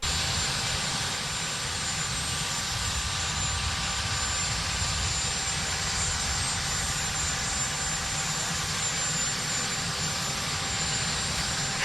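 A jet airplane engine roars steadily on arrival, a loud broad constant rumble and whine that holds unchanged throughout with no voices.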